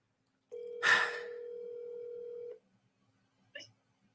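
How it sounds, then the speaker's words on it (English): Telephone keypad DTMF tones during a cold call to a property owner: one long steady tone held for about two seconds, briefly overlapped by a breathy burst, then a short second beep after a pause. "So if you want to punch in your phone number, you got to type it out like Dominic does."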